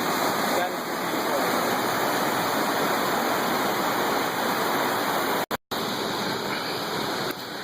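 Graffiti Falls pours in a loud, constant rushing roar of falling water heard close, a broad steady wash with a brief dropout near the end, while people talk faintly underneath.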